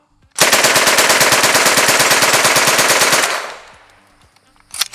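An MP40 open-bolt submachine gun fires one loud, sustained full-auto burst of rapid, evenly spaced shots lasting about three seconds, then the echo fades out, followed by a few faint mechanical clicks.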